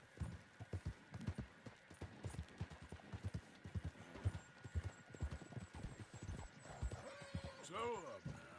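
Horse hooves clip-clopping in a steady rhythm while the horse is ridden, close and clear, with a few whinnies and a rider's voice speaking over them.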